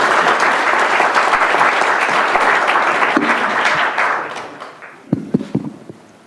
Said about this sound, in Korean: 여러분의 뜨거운 박수 부탁드립니다.